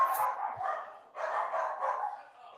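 A small dog yips and barks a few times in quick succession from a short distance, sharp and fairly clear against an otherwise quiet background, with no talking.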